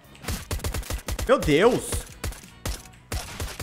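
Repeated USP pistol shots ring out in a shooter video game, a rapid run of sharp cracks with short pauses, while someone talks excitedly over the gunfire.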